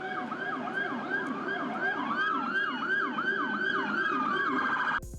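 A police rumbler siren wails in fast repeating up-and-down sweeps, loud and sustained with layered tones, cutting off abruptly near the end.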